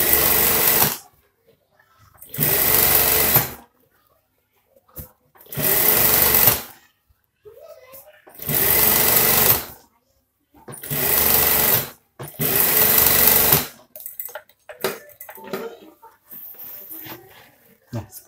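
A sewing machine stitching the collar of a scout uniform runs in six loud, close bursts of a couple of seconds each, separated by silent pauses, followed by quieter handling noises.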